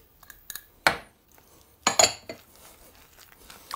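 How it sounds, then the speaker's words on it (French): Egg yolks being stirred into cooked rice for a kirsch rice cake, with a utensil clinking against a bowl in a few sharp, separate taps amid quiet scraping. "Vous mélangez bien pour qu'ils soient"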